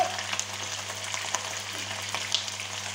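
Duck wing pieces browning in a pan, a steady close sizzle of frying fat with occasional small pops and crackles over a faint low hum.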